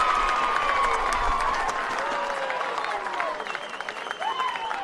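Home crowd cheering and applauding at an under-19 women's rugby league national match, a broad mid-distance roar with scattered whistles and shouts, easing off slightly toward the end.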